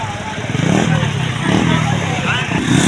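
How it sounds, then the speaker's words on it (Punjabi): A stuck motor rickshaw strains under load, its engine droning and revving loudly in pulses while people talk nearby. "ਹੁਣ ਕੱਲਾ ਰਕਸ਼ੇ ਦਾ ਜ਼ੋਰ ਲਵਾ ਰਹੇ ਨੇ"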